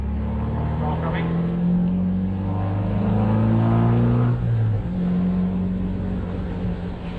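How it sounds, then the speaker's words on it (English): A car passes on a wet road as heard from inside a small open British sports car, an MG Midget, with a rising and falling engine drone over steady road and wind rumble. "Car coming."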